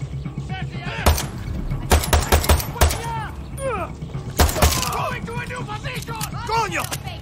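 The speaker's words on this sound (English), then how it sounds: "We're shooting!" Gunfire from the video game Far Cry 6 cracks in sharp, loud shots, some in quick clusters and others single, mixed with shouting voices and combat effects.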